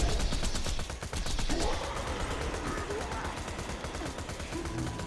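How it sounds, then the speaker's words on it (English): Rapid SMG gunfire in Borderlands rattles in fast, continuous bursts throughout, loud and close, with a brief dip in the middle and other game sounds layered underneath. "the SMG is way better. SMG is superior here."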